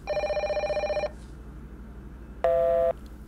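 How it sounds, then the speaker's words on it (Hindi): A telephone ringing tone pulses rapidly for about a second, then after a pause a single steady electronic tone sounds briefly. "पार्टिसिपेंट को फोन मिलाता है"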